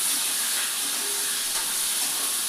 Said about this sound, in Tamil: அப்புறம் பச்சை மிளகா, வெங்காயம், பொருட்டாக நறுக்கின வெங்காயம் அதையும் வதக்கிடுவோம்.